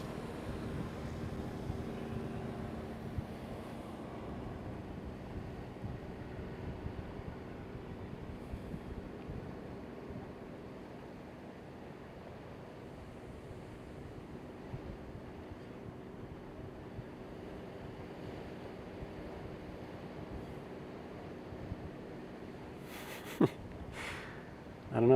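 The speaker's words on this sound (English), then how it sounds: "it's pretty relaxing just to hear the waves" Ocean surf off Kona, Hawaii at sunset, a steady broadband wash of waves mixed with wind noise on the microphone, continuous and fairly distant for about twenty-five seconds, with a couple of brief clicks near the end.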